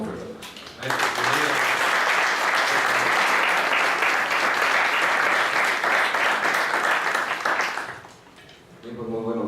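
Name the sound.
audience applause welcoming a speaker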